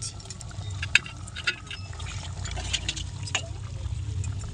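Water trickles and pours into a pan of cooking potato curry with chuin and bari, a soft continuous liquid sound with small clinks and splashes over a low background hum.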